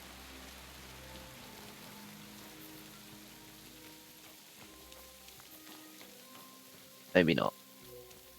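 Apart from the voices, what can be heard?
rain falling in Kingdom Come Deliverance 2 video game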